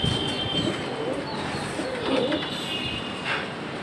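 Pigeon cooing softly in a steady, continuous murmur while the bird is held and set down, close to the listener, with no speech over it.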